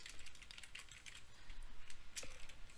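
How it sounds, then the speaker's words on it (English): Computer keyboard typing while entering a username on a Windows server, a quick irregular run of close, light key clicks with a louder keystroke near the end, no talking. "type the username"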